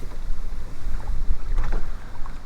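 Strong wind buffets a fishing boat on a bass lake, a loud gusting rumble against the microphone that swells and dips over water noise, with no voices.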